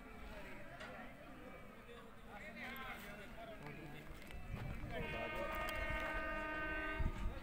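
A train arrives at Antagarh railway station with a steady rumble and clatter of cars, and a sustained horn sounds partway through amid crowd chatter and voices.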